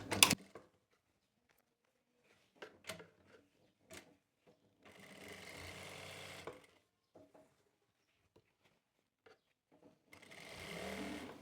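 A sewing machine stitches along the bottom hem of an open palazzo pant where elastic goes in, running in two steady bursts of a couple of seconds each, separated by quiet clicks and fabric handling.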